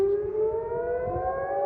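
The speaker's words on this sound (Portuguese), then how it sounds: "as sirenes tocaram na região central de Israel" Air raid sirens sound in central Israel during a ballistic missile alert, a steady, faint wailing tone that rises slowly, heard alone at a distance.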